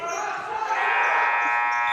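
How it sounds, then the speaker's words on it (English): A long, steady electronic buzzer sounds at a junior high basketball game between Groveton and Colebrook, filling the whole moment loudly above the gym's background noise. "couldn't get the shot off before the buzzer"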